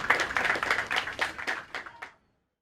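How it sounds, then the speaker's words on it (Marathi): An audience at a gathering claps in a quick run of sharp, fairly close hand claps that thin out and stop abruptly, leaving silence at the end. "खरं टाळ्या वाजवा तुम्ही त्याच्यासाठी"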